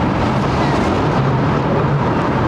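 Wake vortex swirling behind an airliner that has just passed at Heathrow, a low rumbling, rushing turbulence with a fluttering quality, steady and fairly loud for a few seconds.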